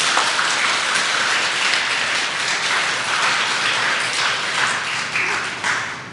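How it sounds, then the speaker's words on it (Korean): Church congregation applauding the choir during a Sunday worship service, a dense, steady wash of clapping that fills the whole stretch and eases slightly toward the end. "우리 성가대를 위해서 큰 박수 한번 드리죠."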